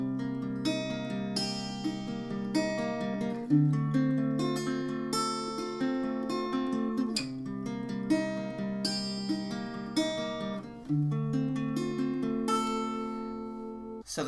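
Fingerpicked acoustic guitar plays a verse passage of a song, a continuous arpeggiated pattern cycling through minor seventh chords with plucked notes ringing over each other, close and unaccompanied.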